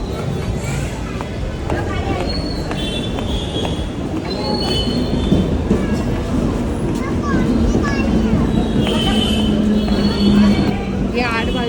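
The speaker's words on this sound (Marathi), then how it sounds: "ट्रेन आलेली आहे." A train pulls into a station platform, its wheels squealing and the carriages rumbling steadily louder and closer, while voices chatter nearby throughout.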